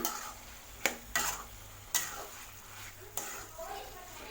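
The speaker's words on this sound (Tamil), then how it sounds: "இந்த ஸ்டேஜில் நம்ம வதக்கி வச்சுருக்கிற பாவக்காய் சேர்த்திக்கலாம். சேர்த்துட்டு இதை நல்லா மிக்ஸ் பண்ணி விடுங்க." Bitter gourd, already fried, is stirred into a masala in a pan, with a few sharp scrapes and clinks of the spoon against the metal over a soft sizzle.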